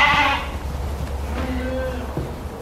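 Ewes in a sheep barn set up for lambing, with a loud close bleat at the start followed by fainter bleating and barn noise.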